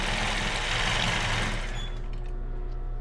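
A sewing machine runs steadily while stitching the finishing seam on a pair of lace thong panties, its motor drone loud and close before tapering off and fading near the end.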